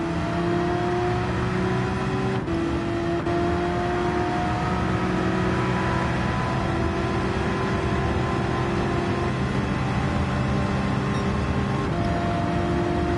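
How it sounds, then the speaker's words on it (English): Race car engines in Gran Turismo 7 drone steadily at close range, with rising and falling tones as a neighbouring car shifts gear alongside during a daily race. "Love when you can hear a car shifting gear beside you."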